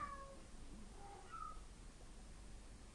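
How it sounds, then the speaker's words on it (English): A cat lets out a couple of faint, wavering meows over a low background hiss, with no talking. "That was a deranged cat."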